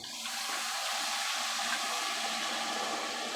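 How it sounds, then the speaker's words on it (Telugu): Water is poured in a steady rushing stream into a pot of goat head mutton curry, loud and continuous with no talking. "ఉడికిన తర్వాత ఇప్పుడు వాటర్ పోసుకుందాము"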